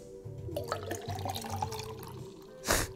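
Water pours from a small pitcher, a soft trickling and dripping at close range with light clinks, ending in a brief louder splash.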